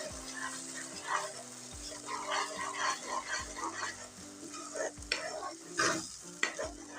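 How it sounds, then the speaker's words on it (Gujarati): Spice masala is stirred into hot oil in a pan, a steady sizzle and fry broken by repeated scraping strokes of the spoon, close and moderately loud, with faint background noise and no talk. "તો મસાલો નાખીને આપણે સરસ રીતના તેલમાં અંદર મિક્સ કરી લઈશું"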